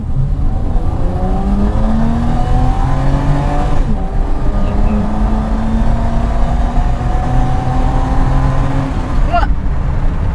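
A 2.7-litre BMW E30 in AC Schnitzer style, over thirty years old, pulling hard in sport mode from about 20 km/h, its engine droning loudly with rising pitch through gear changes, heard close from inside the cabin.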